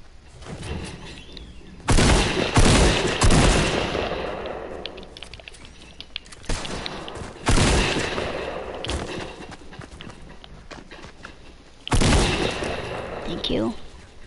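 Assault rifle gunfire in a video game, with loud bursts of rapid shots in several volleys separated by quieter gaps, up close and with a voice talking between them.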